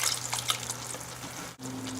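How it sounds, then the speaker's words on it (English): Beef stock, 300 ml, poured into a pan of browned mince for chilli con carne gives a steady liquid trickle and splash lasting a couple of seconds, close and moderately loud, with no talk. "I'm going to add the 300 mils of beef stock."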